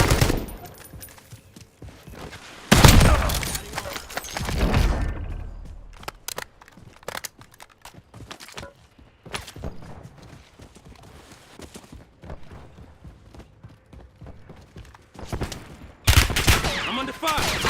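Rapid bursts of automatic gunfire and explosions in a first-person shooter video game, loud clusters separated by quieter stretches of in-game clatter and footsteps, with brief voice callouts.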